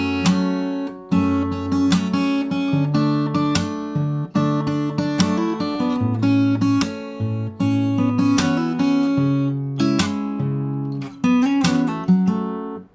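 A fingerstyle acoustic guitar plays the verse fill from a song, with a walking bass line under plucked melody notes and chords in a steady flowing rhythm, close and clear with no speech.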